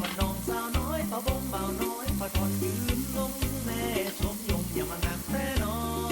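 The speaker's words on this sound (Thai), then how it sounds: "จากนั้นก็นำเต้าหู้ไข่ที่เราทอดไว้ ลงมาผัดด้วยกันได้เลย" Minced pork stir-fried with seasonings and fried egg tofu in a pan for basil stir-fry, giving a steady loud sizzle with repeated scraping and clanking of the spatula throughout, no talking.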